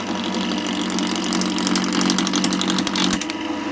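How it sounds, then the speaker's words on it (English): A wood lathe turns a rough, bumpy blank for a lidded box at half speed, with a loud, steady, rattling mechanical drone that stops abruptly near the end. "So that's about half speed in my lathe."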